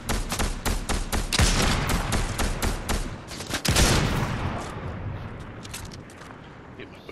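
Gunfire bursts in the Fortnite video game, boom sniper rifle shots among a loud rapid string of reports that fades into a quieter rumble.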